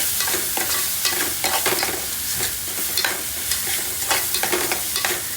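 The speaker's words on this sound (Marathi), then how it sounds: "हे लसूण कच्चा घेतलाय ना, थोडासा परतून घ्यायचा आपण." Raw garlic and curry leaves sautéing in hot oil in a home kitchen, a continuous close sizzle with repeated scraping stirs of a spoon against the pan.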